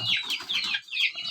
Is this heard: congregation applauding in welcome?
no